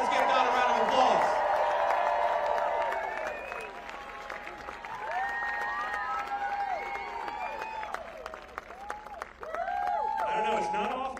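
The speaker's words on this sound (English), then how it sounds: "Let's give Don a round of applause." A crowd at a JD Vance campaign rally in Selma, North Carolina applauds steadily for about ten seconds, loud at first and then settling to a sustained clapping roar, with cheers and shouts rising above it.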